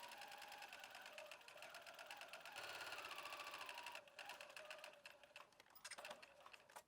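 A sewing machine stitches a tank top seam, with a loud, steady mechanical whir that runs almost without a break. There is a brief change in pace partway through, and no talking.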